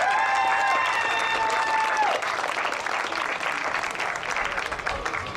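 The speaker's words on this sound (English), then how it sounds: "Give them a round of applause, everybody." An audience at the inaugural Troops in Touch event in Paradise, Louisiana, gives the teams a round of applause; sustained crowd clapping carries throughout, with a whistle-like tone and scattered cheers early on.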